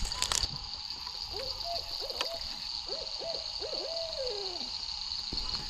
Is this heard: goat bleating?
no